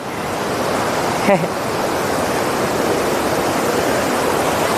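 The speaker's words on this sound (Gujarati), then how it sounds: "બાકી તો જો અહીંયા કેટલું આવે છે પાણી" Broad, steady roar of water pouring over the overflowing Kareda dam fills the whole stretch, loud and continuous, with a brief voice cutting in once.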